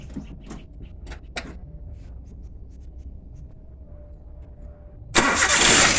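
A Toyota Avanza or Daihatsu Xenia engine turns over and catches, a loud broadband burst of starting after several seconds of quiet with a few faint clicks and a low steady hum.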